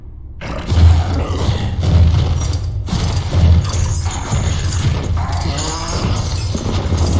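A deep, guttural roar from a Berserker creature in the video game Gears of War swells and rumbles in bursts over a dense, noisy game soundscape, loud and close.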